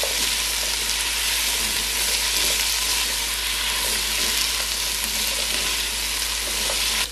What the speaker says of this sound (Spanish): Y lo seguimos friendo